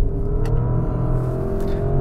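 Porsche Cayenne Turbo E-Hybrid Coupé from 2023, a full-size 739 PS hybrid SUV, accelerating with a steady, loud low engine rumble that holds throughout without letting up.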